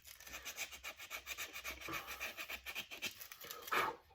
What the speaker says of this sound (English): I'm gonna sand it down with the 220 grit sandpaper